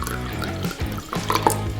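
Rice wine vinegar pours into a bowl of boiling water for pickling onions, a steady liquid trickle and splash lasting under two seconds over a low background hum.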